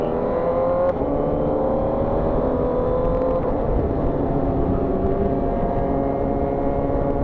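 Steady engine drone from a Honda CBR1000RR-SP2 ridden on a road in Bataan, holding loud and close throughout, with a faint tick near the start and no talk.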